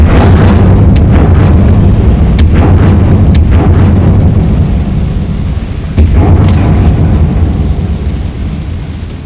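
A fire spell cast in Hogwarts Legacy on Xbox Series S: a loud, sustained roaring whoosh of flame with low rumbling body and a few sharp crackling bursts, slowly fading toward the end.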